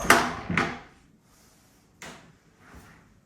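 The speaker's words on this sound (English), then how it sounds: "and then we open this door" A bathroom door opens with a couple of sharp wooden clunks close by, then a further knock and a soft scrape after a pause in a quiet room.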